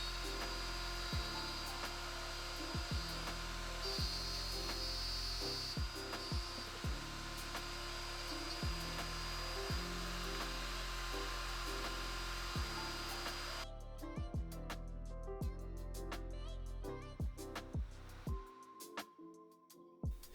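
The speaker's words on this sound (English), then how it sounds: "I set up a couple stop blocks on the router table. This is going to make it so I can make repeatable keyhole holes in the back of the board" Router on a router table cutting keyhole slots into the back of a walnut board, a loud steady whir with repeated rhythmic ticks, then spinning down and stopping near the end.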